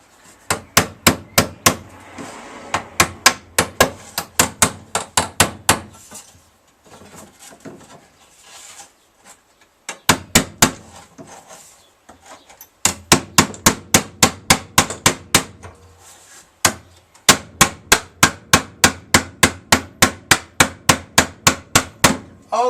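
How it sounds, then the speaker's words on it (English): A small hammer taps rapidly and steadily, knocking over the metal edges of a Harley air filter cover being fabricated, long runs of sharp ringing blows broken by brief pauses. "Time for beatage with the little hammer. Just going to knock these edges over"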